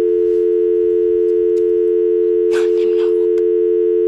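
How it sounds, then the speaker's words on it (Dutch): A mobile phone goes off with a steady, loud electronic tone that holds unbroken for several seconds, while brief rustles and knocks sound in the background. "Hé, daar gaat mijn telefoon."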